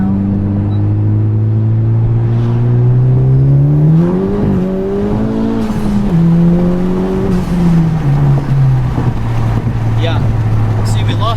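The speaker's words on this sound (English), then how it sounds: "What if I floor it in second?" A 2021 Honda Civic Type R in R mode is floored in second gear, its engine note climbing loud and steady, wavering briefly as traction breaks, then easing off toward the end. Voices talk faintly underneath.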